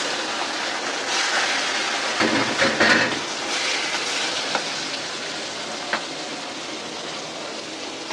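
Hilsa fish frying in a pan sends up a steady, loud hissing sizzle that runs unbroken throughout, with a few small spits and pops.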